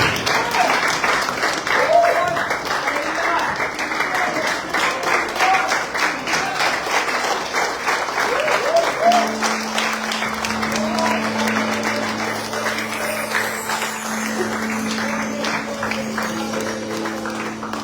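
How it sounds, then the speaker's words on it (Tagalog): A church congregation at a Sunday service claps in a full, sustained round of applause that thins out midway, as a steady sustained tone and voices take over. "Sama-sama natin yung bigyan po ng palakpak."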